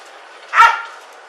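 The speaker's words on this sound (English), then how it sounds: "This dog's gonna come and take you out, man." A police dog gives one sharp bark during a stolen-car pursuit arrest, a single loud close burst against quiet background.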